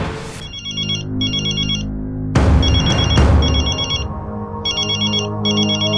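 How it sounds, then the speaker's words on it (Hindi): A phone rings with an incoming call, its electronic ringtone repeating in short bursts over dramatic background music and a couple of sharp hits. "ये दयावंती जी का बार बार फोन आ रहा है।"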